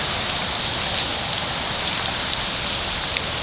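Steady rain pours down outside a trailer park, a dense, constant hiss of drops hitting surfaces, loud and close with no voices.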